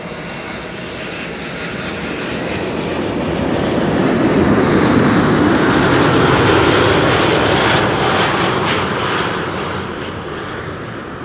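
A United Boeing 777-200 arriving at Amsterdam Schiphol Airport after a long flight from San Francisco, its loud broadband jet roar swelling as it passes close by, then slowly fading.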